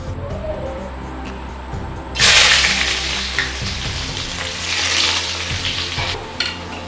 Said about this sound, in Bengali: এবারে দেব আবার সাদা তেল। প্রথমে দেব পেঁয়াজ কুচি